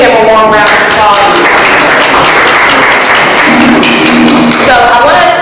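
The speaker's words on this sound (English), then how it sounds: "can we give him a warm round of applause?" Audience at a community event in DC honoring an NAACP representative breaks into dense, loud applause that runs throughout, with voices calling out over the clapping.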